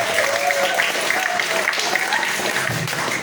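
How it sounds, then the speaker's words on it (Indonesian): Steady applause from a seated crowd at a Maulid celebration quiz, fairly loud and continuous, with a few voices mixed in. "Tepuk tangan untuk kelompok A."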